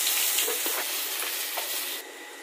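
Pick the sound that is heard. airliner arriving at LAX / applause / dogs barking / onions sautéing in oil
onions sautéing in oil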